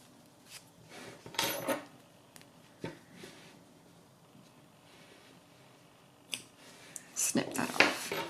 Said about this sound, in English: Snip that off.